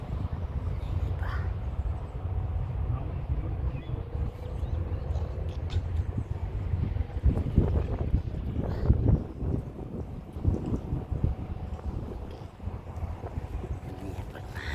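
Wind buffets the microphone in continuous low rumbling gusts in a park in Barcelona, Spain, with faint background sounds beneath.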